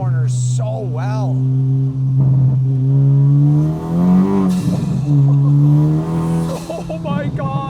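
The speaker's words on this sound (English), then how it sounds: "I know Hondas sound good, but everyone complains about this K20C and they say it doesn't sound as good as the old K20A" A Honda Civic Type R with a K20C engine and Tomei exhaust revs hard and loud through corners, climbing and falling in pitch across several gear pulls, while someone talks excitedly over it.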